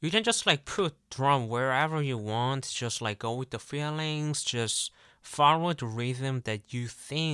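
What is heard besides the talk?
No everyday noise stands out behind the speech.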